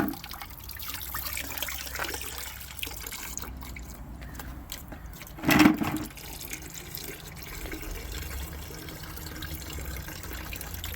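Coolant drains from a 1996 Jeep Cherokee in a steady, soft trickle, with a brief louder splash midway before the thin stream settles back.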